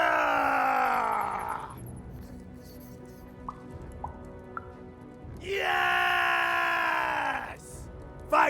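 A loud, sustained battle-cry scream in Lost in Random, a harmonic wailing howl held for nearly two seconds, then a quiet gap with a few small plops before a second long scream of similar strength.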